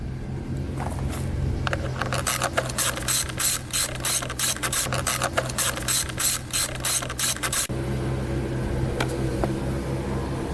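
A ratchet loosening 8 mm bolts at the back of the fender on a Suzuki RM 125 dirt bike, giving a close, rapid clicking in quick bursts, then a pause and a final stretch of steady mechanical clatter.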